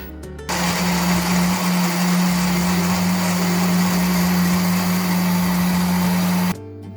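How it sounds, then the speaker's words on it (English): Blender whirring steadily on carrot ginger soup, a loud close continuous motor drone that starts abruptly, runs for about six seconds and cuts off. "Now pour the soup into your blender and then blend until smooth."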